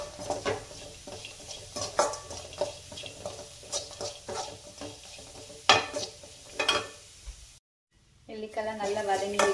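Amla (Indian gooseberries) sautéing in a pan while being stirred for amla rice, with irregular scraping and sizzling bursts, clattering utensil hits, then a brief silence before the frying noise resumes.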